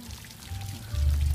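Ice water pours out of a container during an ice water challenge, a steady splashing stream that grows louder and fuller toward the end.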